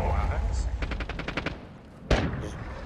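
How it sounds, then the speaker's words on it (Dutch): Rapid gunfire bursts in the video game Warzone II, a quick string of about eight shots followed by a single sharp louder crack, heard under a player talking. "gezien de schoten die ik daar vandaan hoor."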